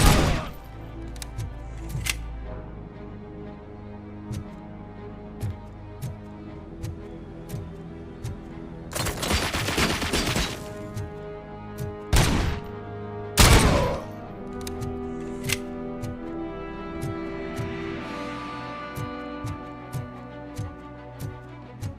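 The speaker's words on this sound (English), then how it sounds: "Shoot the motherfucker!" Gunfire in the video game RoboCop: Rogue City: sharp shots and short bursts ring out over a busy game soundscape, with loud clusters of rapid fire about two-thirds of the way through.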